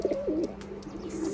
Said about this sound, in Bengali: অনেক চমৎকার কোয়ালিটির এক পেয়ার প্রিন্স কামাগার কবুতর